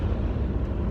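A BMW 545i with a 4.4-litre V8 pulls hard, a dense low engine roar that stays steady and loud across a brief moment.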